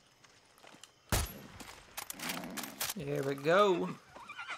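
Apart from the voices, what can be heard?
horse whinnying and hooves in video game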